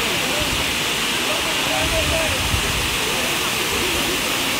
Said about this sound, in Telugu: అసలు ఆ వాటర్ సౌండ్ వింటూ అక్కడ ఎన్ని అవర్స్ అయినా గడిపేయచ్చు అనిపిస్తుంది